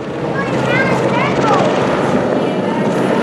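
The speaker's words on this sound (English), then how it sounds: "The helicopter." A helicopter thrums steadily overhead, its rotor chop loud and constant, while voices speak faintly beneath it.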